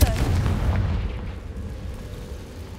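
A Confringo fire-blast spell explodes in Hogwarts Legacy, a loud booming burst at the start that fades into a rumbling low tail, with no voice over it.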